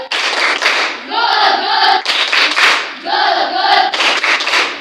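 Classroom of pupils performing a rhythmic group clapping routine, with loud bursts of synchronized claps alternating with chanted voices in a repeating pattern, close and lively.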